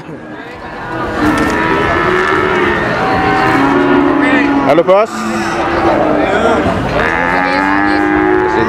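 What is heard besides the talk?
Limousin cattle at a cattle market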